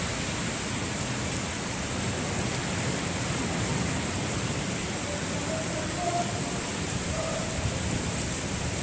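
Heavy rain falling in Sharjah, UAE, a dense steady hiss of downpour filling the whole space, loud and constant throughout without pauses.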